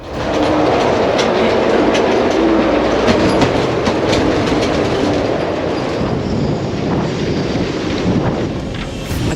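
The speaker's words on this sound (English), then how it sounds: "each gust sounded like a freight train passing by, shaking the boat to her very core" A violent 100-knot Bura storm with wind gusts battering a moored boat, a loud, continuous roaring rumble like a passing freight train, unbroken and close for the whole stretch with no talk.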